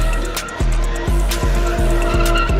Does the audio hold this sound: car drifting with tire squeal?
yes